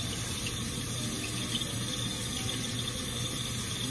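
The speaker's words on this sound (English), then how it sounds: "I'm just gonna put these in the sink and put water in them for right now." Tap water runs steadily into dishes in a kitchen sink, a continuous close, loud rushing and splashing wash with no pauses.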